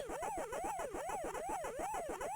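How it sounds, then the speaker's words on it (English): A rapid electronic siren-like warble from the Pac-Man video game rises and falls in a steady, repeating cycle, with pulsing beeps underneath, loud and continuous. "with its weird siren-y sound effect"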